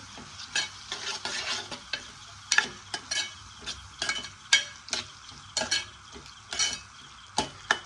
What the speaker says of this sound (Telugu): తర్వాత కారం ఒకసారి కలిపేసుకుందాము